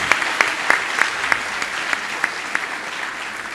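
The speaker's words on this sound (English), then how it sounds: "a very big round of applause" Audience applause at a business and entrepreneurship forum: steady, broad clapping from a large crowd with a few sharper individual claps standing out, continuing evenly throughout.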